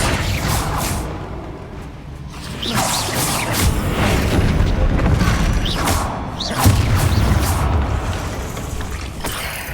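Bombarda blasting spells in Hogwarts Legacy, thudding booms and whooshes in a busy combat mix with mechanical clanks and crashes, loud and continuous, with no talking.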